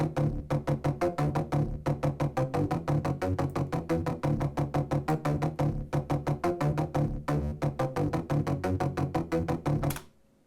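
EQ'd synthesizer parts mixed in Cubase pulse in a tight, steady rhythm of repeated chord stabs, dense and fairly loud, running continuously before stopping abruptly near the end.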